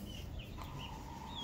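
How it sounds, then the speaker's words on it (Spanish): Soft clucking from a Mapuche rooster and hens with chicks in a noisy outdoor yard, with a low rumble underneath and faint higher calls here and there. "Precioso gallo mapuche."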